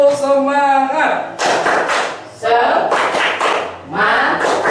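Children stand and do a patterned spirit clap together, crisp clusters of claps and thumps recurring in rhythm, interleaved with the group loudly chanting in unison.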